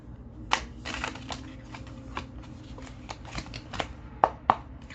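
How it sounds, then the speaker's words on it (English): A tarot card deck being shuffled by hand, with crisp irregular riffling and flicking card snaps close up, a few sharper taps, no talking. "Clean that deck and shuffling up."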